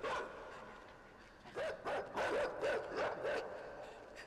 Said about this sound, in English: Get me away from the dog.